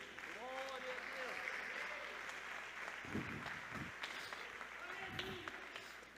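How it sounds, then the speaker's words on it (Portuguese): A church congregation applauds during a sermon about faith, a steady broadband wash of clapping at moderate level with voices and brief louder bursts mixed in. "Glórias ao Senhor, aplauda Ele."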